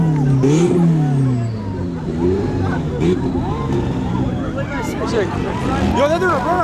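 A car doing a burnout on a crowded street during Memorial Day: a loud, continuous engine roar and revving, heavily overlaid by shouting and excited crowd chatter throughout.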